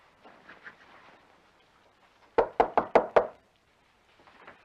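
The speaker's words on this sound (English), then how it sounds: "I was just gonna knock." Five sharp knocks on a door in a quick, even run, loud and close, with quiet talk before and after.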